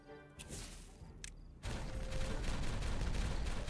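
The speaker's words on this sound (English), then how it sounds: "There's definitely something satisfying about watching the explosions." Explosions crack and boom in the Timberborn game, first a few sharp bursts and then a dense, loud, continuous rumble of blasts that carries on to the end.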